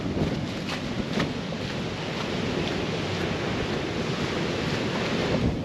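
Steady roar of rushing water from a waterfall, broad and continuous, with some wind buffeting on the microphone.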